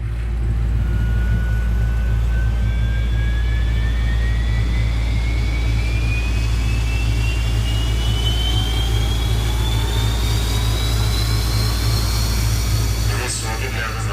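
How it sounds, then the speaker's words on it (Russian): In a film about an airliner that has lost thrust in both engines over the Hudson, a steady mechanical hum and low drone fill the cockpit as the auxiliary power unit starts, with a rising whine climbing slowly. "Запуск ВСУ."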